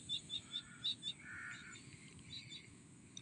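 A small wild bird, just freed from a net trap, gives a run of quick, faint, high chirps in short bursts, some distance off against a quiet outdoor background.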